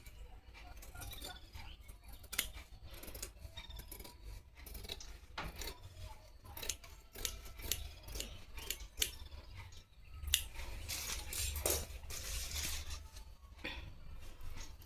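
Scissors cutting blouse cloth by hand along marked lines, with repeated close snips and fabric rasping in a steady, uneven rhythm and no talking.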